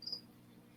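Pet crickets kept as feeder insects in an indoor tank, a single bright chirp burst near the start, then a low steady room hum; fairly faint and close by, no talking.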